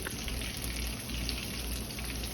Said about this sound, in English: once the oil is nice and hot, we're gonna fry up our shrimp